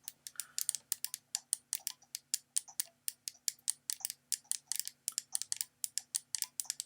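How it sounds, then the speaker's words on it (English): Neo Geo Pocket Color joystick clicks rapidly and crisply, a long run of sharp, evenly spaced ticks close up against a quiet background. "Can you hear it clicking? It clicks very much like a Neo Geo joystick."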